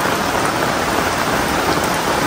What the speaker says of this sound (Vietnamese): Trời mưa tầm tã